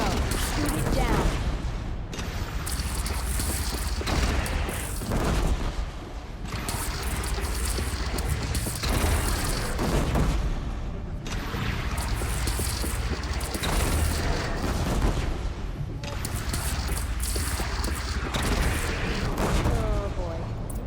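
A bridge shot down in Horizon Zero Dawn collapses with dense, continuous rumbling crashes and booming impacts lasting throughout, loud and close, with clattering debris and bursts of combat noise; a voice speaks briefly over it.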